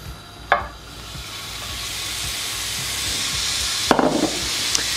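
Beef hitting a hot pan on high heat, a loud hiss that swells and holds steady, with a utensil clack at the start and scraping stirs near the end, heard close up without talk.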